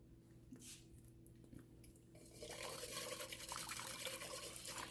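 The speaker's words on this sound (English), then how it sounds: "you can feel, when you're whisking around, you can feel when it's dissolved" Better Than Bouillon beef paste being whisked into liquid for birria consommé, a quiet slosh and swish that starts faint and then becomes a steady, closer liquid churning, with no voices.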